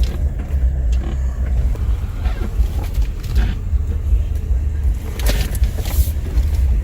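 A Suzuki Carry mini-truck drives along, its small engine and tires making a continuous loud rumble with road and wind noise. A couple of brief rattling bursts come near the end.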